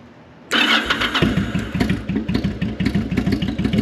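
A bobber-style custom motorcycle engine cranks and fires abruptly, then settles into a loud, close, lumpy idle with steady rhythmic exhaust pulses.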